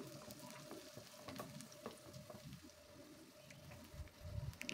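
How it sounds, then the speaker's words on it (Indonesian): Garlic frying in roughly 200 ml of oil, a steady low crackle and sizzle running throughout at moderate level, with a few clinks of stirring or utensils and no talking. "Ini kita goreng dulu bawang putihnya dengan kurang lebih 200 ml minyak ya."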